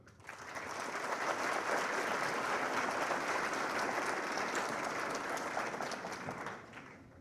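An audience at a book presentation applauds to welcome a doctor and economist, steady full clapping that swells quickly, holds evenly for several seconds, then tapers off.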